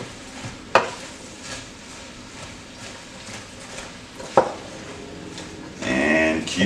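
Onions sizzle softly in a soup pot for French onion soup on medium heat, with a utensil clacking against the pot twice and a louder stirring scrape at the end.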